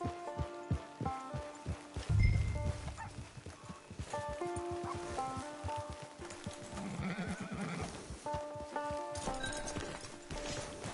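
In Red Dead Redemption 2, horse hooves clip-clop in a steady walking rhythm, with a horse whinnying partway through over soft ambient music.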